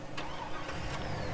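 A tractor or farm vehicle engine in a farming simulator video game turns over and settles into a steady mid-pitched hum, brief and fairly close.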